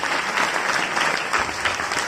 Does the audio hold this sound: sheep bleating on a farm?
no